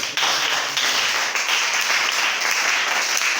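A church congregation at an Easter service bursts into sustained applause, many hands clapping together in a loud, dense, even roar.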